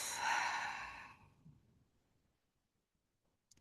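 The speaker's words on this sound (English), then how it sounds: "Inhale through your nose, exhale out the mouth" A single long exhale out through the mouth after a nasal inhale, breathy and close, fading into near silence.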